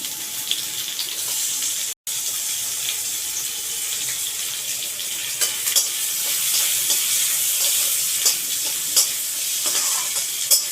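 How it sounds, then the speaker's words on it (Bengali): Chopped onion sizzles steadily while being stirred in a frying pan for a chicken dish, with a continuous hiss and light scraping, close and alone. "একটু এক মিনিট নেড়ে নেবো তো এবার দেবো পেঁয়াজ কুচি"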